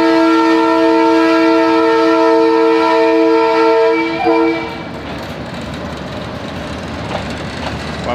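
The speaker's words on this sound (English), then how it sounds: "You can see this train coming." A train in Madagascar sounds a long, loud, steady horn blast close by, then the horn cuts off, leaving the rumbling, rattling clatter of the passing cars.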